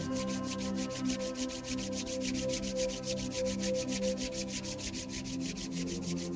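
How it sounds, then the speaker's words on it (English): Palms rub briskly together during a yoga session, a continuous, even, dry swishing friction close up with no talking over it. "Now slowly rub your both the hands and put it on your eyes."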